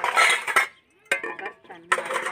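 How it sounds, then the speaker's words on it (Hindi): Washed steel dishes and pots being stacked and put away in a home kitchen, with a few loud clinks and clatters in separate bursts and brief quiet gaps between them. "अभी बर्तन धुल चुके हैं, इनको रखने जा रही हूँ।"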